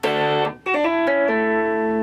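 Lead guitar intro line played note by note over a held chord, with effects-processed distorted tone; sustained bright notes shift pitch a few times across two seconds after a brief gap, played alone without talk.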